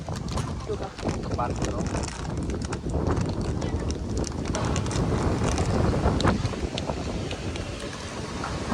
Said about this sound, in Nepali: हावा चाहिँ डेन्जर चल्दैछ